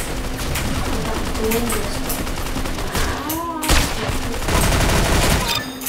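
Rapid automatic weapon fire crackles in bursts in the video game Arsenal, layered with game effects and a brief spoken phrase from the player over the shooting.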